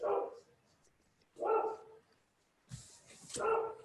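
Three separate dog barks heard close by, each loud and distinct, with quiet pauses between them.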